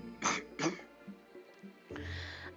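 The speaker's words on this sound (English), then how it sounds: "Clearing his throat" A man clears his throat twice in quick, rough bursts, close and fairly loud. A longer raspy throat noise follows after a short pause.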